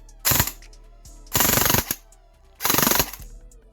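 Airsoft DSG M4 gearbox cycling on semi-auto, three loud bursts of rapid mechanical rattling, each about half a second long, separated by pauses with a faint motor whine between them.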